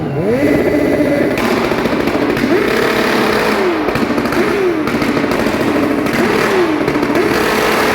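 A motorcycle engine revs repeatedly at a street gathering, loud and close, with rising and falling pitch sweeps over a constant rumbling idle.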